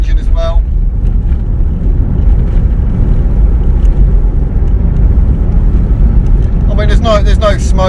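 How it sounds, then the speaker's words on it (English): A freshly rebuilt car engine hums low and steady beneath road and wind rumble while driving, with a voice briefly speaking at the start and near the end. "I'm just mainly listening out for the engine as well."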